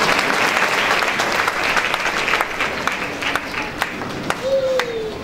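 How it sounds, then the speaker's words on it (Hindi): A Pentecostal church congregation in Udaipur, Rajasthan claps to welcome the preacher, a loud, continuous round of applause with sharper individual claps standing out and a brief voice near the end. "तालियों के साथ प्रभु के दास को स्वागत है।"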